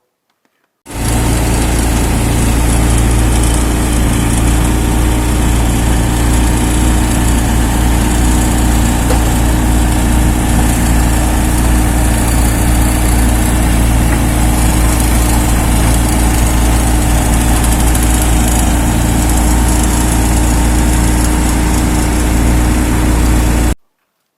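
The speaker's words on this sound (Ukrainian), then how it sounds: "ще копали землю трактором" A tractor engine runs steadily while digging earth for a cable trench, a loud, continuous mechanical drone with a constant low hum that holds unchanged for over twenty seconds with no voices.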